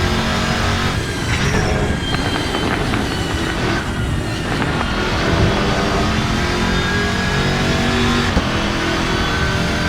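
A race car in the Assetto Corsa sim racing game is driven hard, its engine screaming loudly and continuously with shifting pitch as it accelerates and brakes through corners.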